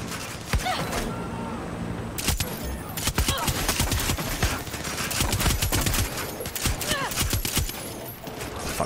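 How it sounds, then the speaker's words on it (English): Dense gunfire from a Far Cry 6 firefight, with many sharp shots and automatic bursts overlapping into a near, loud fusillade, while someone talks over it. "who's shooting me?"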